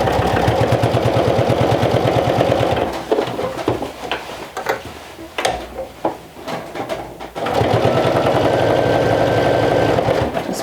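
A domestic sewing machine runs a seam on a vintage jumper, its rapid, even needle clatter going steadily, breaking off into a few clicks and knocks as the fabric is shifted, then starting again at full speed.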